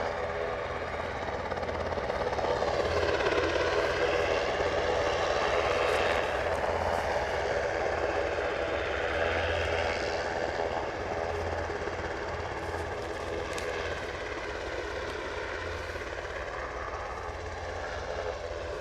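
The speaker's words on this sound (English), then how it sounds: "So I'll wait till the helicopter goes out." A helicopter departs Aberdeen airport, its rotor and engine roar sustained and steady for the whole stretch, loud and fairly close before easing slightly toward the end.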